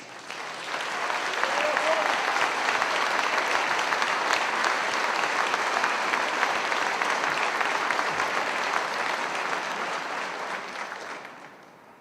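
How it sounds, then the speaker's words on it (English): A full crowd gives sustained, loud applause for sheriffs at a Colorado Springs gun-rights gathering, a dense roar of clapping that builds quickly, holds steady for about ten seconds, then tapers off. "Would all of you please stand so that we can give you a round of applause and thank you."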